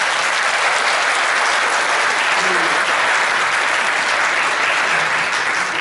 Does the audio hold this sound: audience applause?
yes